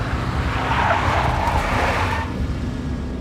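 A big black Mercedes skids in the Max Payne video game, with a loud, sustained tire screech over rumbling engine noise that eases off toward the end.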